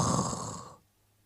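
A voice imitates a husband snoring in bed with one loud, rough, breathy snore that fades out after about a second.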